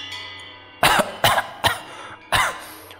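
A person coughs in four harsh bursts, the last two spaced wider apart, close and loud over a low steady hum, as if struggling against being choked.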